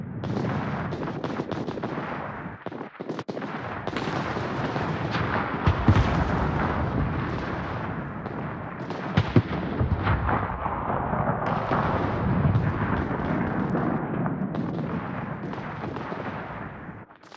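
Sustained game gunfire mixed with heavy artillery blasts as ships hold positions at a central capture point in a fleet battle, loud and continuous with dense overlapping shots and booms throughout.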